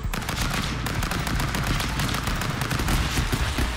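Dense, rapid automatic gunfire in a video game, loud and continuous with machine-gun bursts throughout, no talk.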